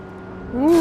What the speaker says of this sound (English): there's an electric car in this game